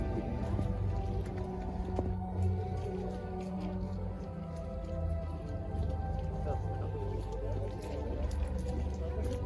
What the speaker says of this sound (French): Ah, mais c'est l'arbre qui pleut là.